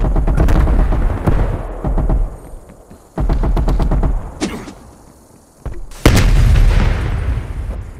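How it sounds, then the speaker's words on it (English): Semtex grenade blast in the video game Call of Duty: Black Ops Cold War, among heavy booming explosions and bursts of rapid gunfire, loud and punchy, with several deep thuds and one big detonation near the end. "Semtex grenade."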